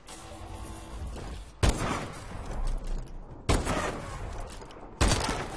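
Sniper rifle fire from the MORS in Call of Duty Advanced Warfare: three heavy, booming shots spaced roughly two seconds apart, each a sharp loud crack followed by a rumbling tail, with low game ambience between them.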